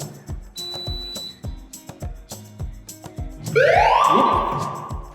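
A fire alarm being test-triggered with a tester: soft rhythmic pulses, then a loud, piercing, sweeping electronic wail that rises abruptly and keeps sounding to the end, close by.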